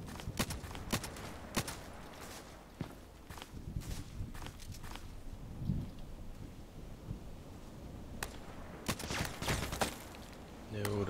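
Scattered gunshot bursts and single shots from an online shooter game called Onaterdam, some sharp and near, others softer, with footsteps and a voice talking in between.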